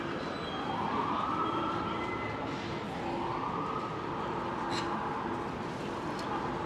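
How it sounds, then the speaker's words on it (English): Emergency vehicle siren on a New York City street along Broadway, a steady rising-and-falling wail sweeping twice over roughly seven seconds, loud and fairly close above constant city traffic rumble. "I gotta love those New York City sirens"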